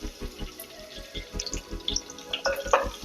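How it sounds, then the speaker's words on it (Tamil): Crushed garlic cloves and chopped red chillies sauté in hot oil in a pan with a soft, crackling sizzle and light rhythmic stirring taps, close and fairly quiet. "பூண்டு லைட்டாக வதங்கட்டும்."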